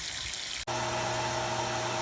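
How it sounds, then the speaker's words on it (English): Water from a water heater drains steadily out onto rock, a continuous close hiss and trickle with a low hum, briefly cut off near the start before resuming. "This is where the water from the water heater is draining out into the rock."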